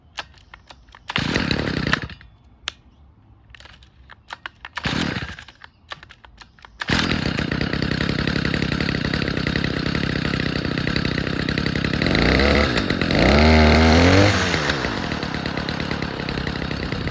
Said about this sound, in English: Let's get back out and get the weed eater together and see what we got.